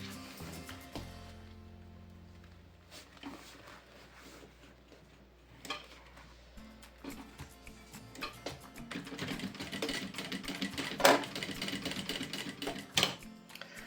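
A sewing machine stitches a seam along the straps of a preschool backpack, starting with quiet handling and then running in close, rapid bursts of clattering stitches that grow louder toward the end.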